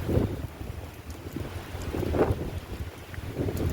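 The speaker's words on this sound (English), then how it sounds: "But it is windy, so I may have to holler at you a little bit." Steady gusting wind buffets the microphone with low rumbling, rising and falling in strength throughout, with no voices.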